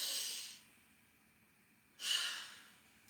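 Two loud, breathy nasal breaths during a tummo breathing exercise, an exhale that fades, a pause of quiet, then another strong rushing breath through the nose.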